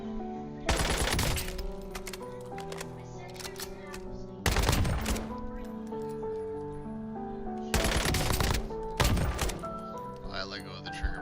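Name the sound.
gunfire from a dot-sight gun in a video game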